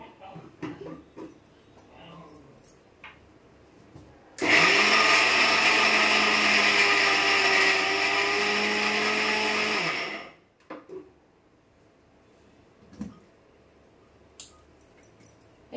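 A kitchen mixer grinder whirs loudly at a steady pitch for about six seconds while grinding mixed seeds for jaggery laddoos, then winds down, with quiet handling noises before and after.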